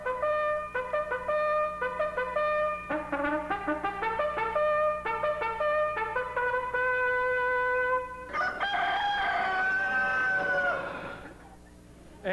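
Barred Rock Bantam chickens at a 1981 Texas poultry show crow and cluck in a run of repeated, close, strident calls, with a longer drawn-out crow near the end before fading.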